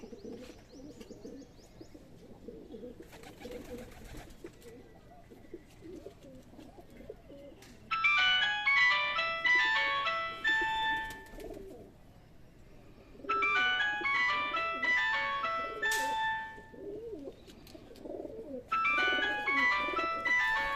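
A flock of some fifty to sixty pigeons coos steadily in a low murmur, while bright, tonal chiming bursts rise over the cooing at intervals.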